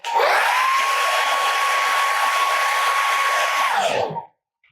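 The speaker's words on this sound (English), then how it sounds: "Do it with the hairdryer." A hairdryer blows steadily for about four seconds, close and loud, drying paint on a custom figure base before it cuts off.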